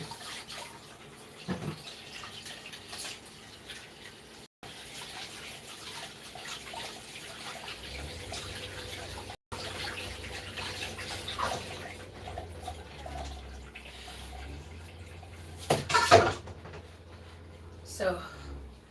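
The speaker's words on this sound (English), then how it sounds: "I'm gonna wash my hands." Water runs from a kitchen tap for handwashing during cooking, a steady close rush and splash that swells louder near the end, with talking over parts of it.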